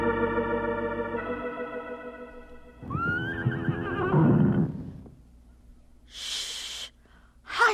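A horse in a barn neighs loudly and close, a long whinny with a falling shrill pitch, followed by snorting and breathy noises and a short burst of hiss near the end.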